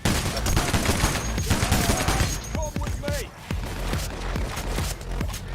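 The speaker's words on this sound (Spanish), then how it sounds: "¿Quién me dispara?" Gunfire aimed at the player in the heist shooter PAYDAY, bursts of rapid shots with booms and other game sounds running under a voice.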